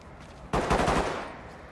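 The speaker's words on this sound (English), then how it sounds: "Is that you shooting?" Gunfire in the tactical shooter Ready or Not, a sudden loud burst of rapid shots cracking near and then fading over about a second, with no talk.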